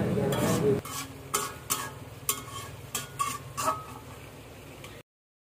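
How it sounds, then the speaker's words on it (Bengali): Egg masala with green chilies and coriander being stirred in a pan, a loud initial burst of sizzle followed by a series of rhythmic utensil scrapes and knocks over a quieter frying hiss, close, ending abruptly in silence. "এগুলা দিয়ে একটু নাড়াচাড়া করে তারপর আমি নামিয়ে নিব"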